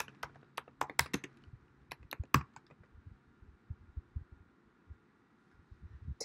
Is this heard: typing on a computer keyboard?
yes